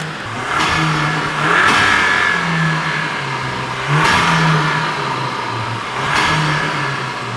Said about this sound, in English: You guys just got to hear what this sounds like while we're revving the motor with this closed